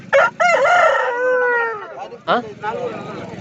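A rooster crows loudly and close by at a Sunday chicken market in Pileru, one long drawn-out call followed by shorter bursts, with people talking nearby.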